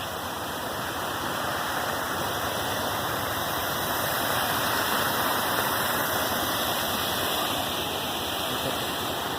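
A waterfall rushes in a steady, loud, broadband roar that holds unbroken from start to finish, heard close to the edge of the falls, with no voices over it.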